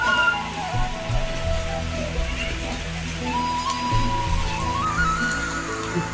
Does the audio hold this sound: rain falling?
yes